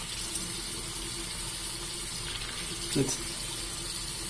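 Tap water runs steadily into a bathroom sink while a face is rinsed, a constant close hiss with a brief splash near the middle and a short spoken word at the start.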